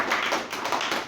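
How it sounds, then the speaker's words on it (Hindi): Audience in a financial literacy class clapping hands together, a short burst of quick, fairly close claps. "चलो एक बार हम ताली बजाएं"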